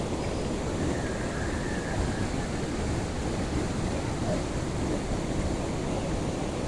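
Steady, even rush of water fills the whole stretch, a constant broadband wash like gentle waves or flowing water, moderately loud and unchanging, with no voices.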